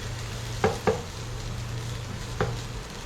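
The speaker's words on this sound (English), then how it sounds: "So pan frying it means like that." Fish cakes sizzle steadily in a pan with a soft frying hiss, broken by a few short scraping taps of a utensil.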